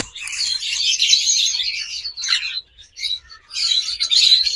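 A pair of pet split blue birds chirping close up, dense high twittering in long bursts broken by a short pause, loud and clear with no talk.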